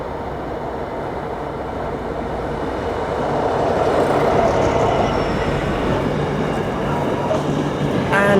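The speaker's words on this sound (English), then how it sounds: "And whilst that freight train rumbles through Walsall Station" A freight train rumbles steadily through Walsall Station nearby, a continuous heavy rolling roar that swells slightly midway, with faint squeals near the end.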